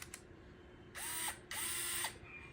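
A cordless screwdriver undoes Phillips screws on a 2004 Lakewood 9-inch high-velocity wind machine fan, model HV9C. Two close bursts of whirring, each lasting about half a second, rise above a quiet hum.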